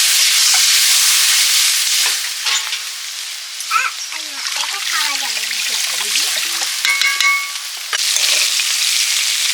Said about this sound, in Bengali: আলু বেগুনগুলো ভাজা হয়ে গেছে